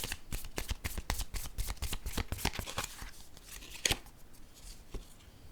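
Tarot cards are shuffled and handled up close in a quick run of crisp riffling snaps, easing into a few softer slides and taps as a card is drawn.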